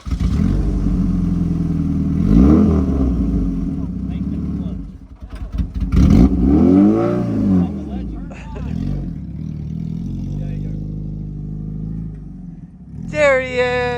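A new SCDRA race car engine on its first drive revs in a few rising and falling surges, moderately loud and near, with a clattery edge and pauses between bursts.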